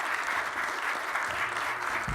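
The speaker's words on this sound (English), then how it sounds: "let's give a round of applause to Commissioner Adam Silver" Round of applause for NBA Commissioner Adam Silver from a gathering of mayors, steady dense clapping from a room full of people, sustained and fairly loud throughout.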